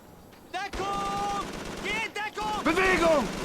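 Gunfire in the video game Call of Duty 3: a few sharp shots burst out amid loud, tonal shouting voices, with the battle noise continuing throughout.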